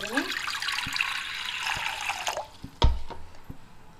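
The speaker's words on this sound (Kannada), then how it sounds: "ಕುಕ್ಕರಿಗೆ ಸ್ವಲ್ಪ ನೀರು ಹಾಕ್ತಾ" A little water poured into a pressure cooker makes a steady splashing stream for about two seconds, then a few clanks and knocks of the metal pot follow.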